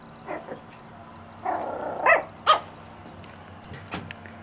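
A Yorkie puppy on a swing gives a few short, high yips and barks spaced across a few seconds, close and fairly soft in a quiet room.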